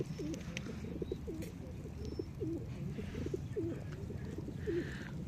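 Pigeons in a large coop cooing in a steady rolling rhythm, many birds overlapping close by, with soft rustling and faint chirps over a continuous background murmur.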